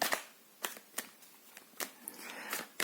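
Tarot cards being shuffled by hand, close up, a series of crisp riffling bursts and soft slaps spaced irregularly through the short stretch, with no talking.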